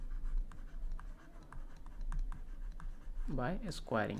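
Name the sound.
writing math steps by hand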